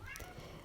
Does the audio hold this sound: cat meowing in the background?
yes